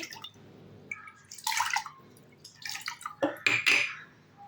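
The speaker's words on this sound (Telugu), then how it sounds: "శుభ్రంగా వాష్ చేసుకున్న జొన్న రవ్వలోకి నాలుగు కప్పుల నీళ్లు పోసి" Water poured into a bowl of washed sorghum semolina, splashing and trickling in short uneven bursts with a few bright drips, close and fairly quiet, no talk.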